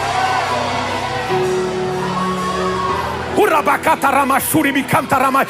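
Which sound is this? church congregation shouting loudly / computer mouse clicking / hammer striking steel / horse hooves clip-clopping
church congregation shouting loudly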